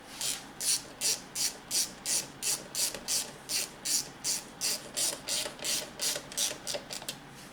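Ratchet fitted with an extension and 10 mm socket tightening bolts during a TDC sensor replacement on a 2001-2005 Honda Civic, a quiet run of about fifteen evenly spaced clicking strokes, close, with no talking.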